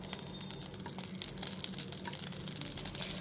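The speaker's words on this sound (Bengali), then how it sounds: "এবার ওই একই তেলের মধ্যে ফোড়নে দিয়ে দিচ্ছি 1 টিস্পুন কালো জিরে আর 3টে চেরা কাঁচা লঙ্কা।" Black cumin seeds and slit green chillies fry in hot oil left over from frying aubergine, a soft steady crackle and sizzle with a few light pops, fairly faint and without any voices.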